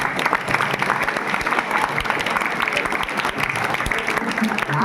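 Crowded, vigorous clapping from students gathered at a boys' hostel in Kurnool, a thick and steady wall of applause held at full strength from start to finish, with some voices mixed in.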